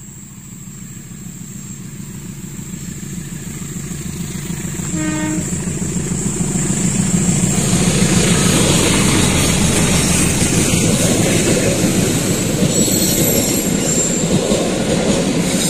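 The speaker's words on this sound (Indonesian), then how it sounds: "kita tunggu kereta api Pasundan yang menuju ke arah barat" The Pasundan passenger train rumbles past in Indonesia heading west toward Kiaracondong station, a steady rhythmic clatter of wheels on rails, growing louder and holding, with a brief horn blast early on.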